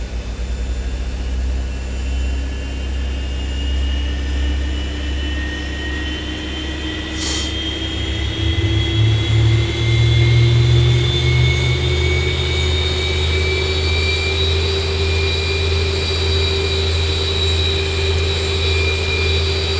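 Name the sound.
Boeing 737 jet engine starting, X-Plane 11 video game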